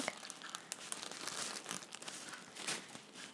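A plastic bag crinkles and rustles steadily as strawberry tops are dropped into it, a close, busy crackle with no talk.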